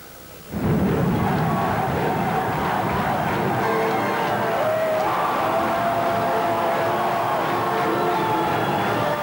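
A packed home crowd of UNLV basketball fans at the Thomas and Mack arena bursts into a roar after a brief quiet moment, then sustains a loud, dense wall of cheering and shouting.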